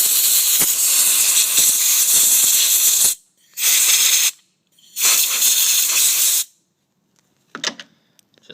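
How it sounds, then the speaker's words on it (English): Compressed air blasting parts cleaner off a Briggs & Stratton 3.5HP float-type carburetor, a loud close hiss for about three seconds, then two shorter bursts separated by silence, followed by faint small clicks. "I'm going to use some just part cleaner. And my air compressor to clean it up a bit."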